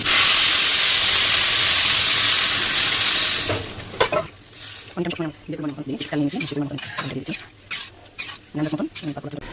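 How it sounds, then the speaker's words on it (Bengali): Water poured onto fried polao rice in a hot pot gives a loud, broad hissing sizzle for about three and a half seconds, then cuts off to quieter bubbling while someone talks over it. "এই যে পোলাও চালটা ভাজা হয়ে গেছে, এখন আমি পানি দিয়ে দিচ্ছি।"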